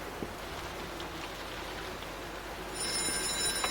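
An old telephone starts ringing inside a quiet house in the horror video game White Night, a thin high bell that enters near the end over a steady rain-like hiss, with no voices.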